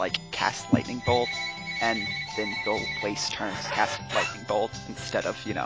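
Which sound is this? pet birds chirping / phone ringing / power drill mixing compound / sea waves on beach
phone ringing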